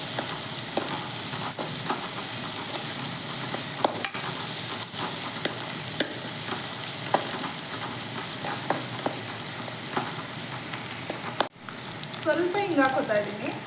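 Onions and curry leaves fry in a pan for chickpea usli, a loud, steady sizzle broken by scraping stir strokes, with a voice coming in briefly at the end.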